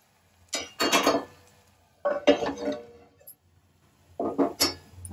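Metal clinks and scrapes from a lid set on a cooking pot of onions. Three separate bursts of close rattling and clattering come with quiet gaps between them, and no one talks.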